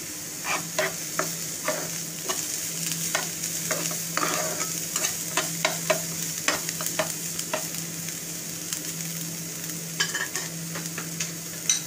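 Fresh tomato puree goes into a frying pan for masala paneer wraps, giving a steady sizzle with repeated stirring clicks and scrapes of a utensil against the pan, close and continuous throughout with no talking.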